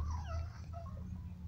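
A female dog pet in the Free Fire video game gives a soft, high whimper with short whining yips, faint over a low rumbling background.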